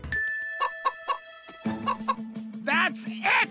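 Chicken clucking in the animated film Candace Against the Universe: several short, bright clucks spaced through the clip over a sustained musical tone, then louder, denser squawking clucks near the end.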